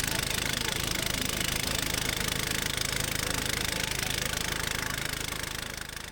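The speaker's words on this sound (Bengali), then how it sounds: "তার নৌকার ইঞ্জিন চালু করার মাধ্যমে শুরু হলো আমাদের সাঙ্গু নদীর নৌভ্রমণ।" A boat's engine runs steadily on the Sangu river, a constant close, loud drone with a knocking mechanical rhythm that holds for the whole stretch and eases slightly near the end.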